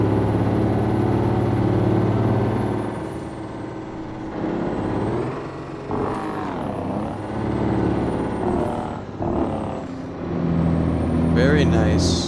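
A heavy truck engine in American Truck Simulator rumbles steadily, then drops into a loud, throaty staccato Jake brake drone as it slows, with brief pauses between bursts.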